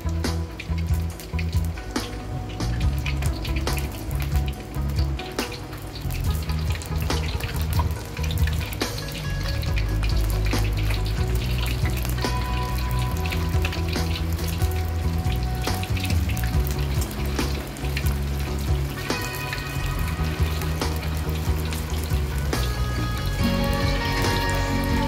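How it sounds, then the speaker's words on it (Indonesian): Tempeh frying in hot oil in a home kitchen, a steady dense sizzle and crackle with faint bubbling that runs continuously and close up, with no voices over it. "Kemudian kita matikan dan tinggal kita goreng tempenya tadi."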